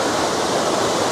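Dense, steady spray of water hissing and splashing loudly and close, like a boat wash soaking riders on a flume ride at Universal theme park, a continuous broadband rush with no pauses.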